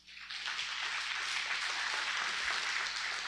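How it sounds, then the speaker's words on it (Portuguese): A church congregation claps for the Lord, a dense, even wash of applause sustained throughout, moderately loud and somewhat distant in a large room. "Aplauda bem forte ao Senhor."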